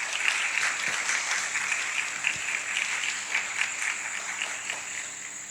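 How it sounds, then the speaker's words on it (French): An audience breaks into steady applause to welcome a priest to the table at a religious talk. Dense, even clapping from many hands carries on throughout, fairly close and unbroken. "nous accueillons par nos applaudissements"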